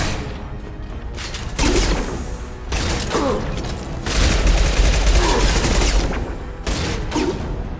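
Gunfire from Mass Effect 2 rattles out in repeated bursts of loud, dense shots mixed with mechanical clanks and reload sounds, close and sustained across the stretch.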